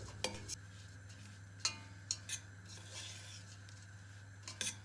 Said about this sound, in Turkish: Kısık ateşte karışımımı karıştırarak pişiriyorum.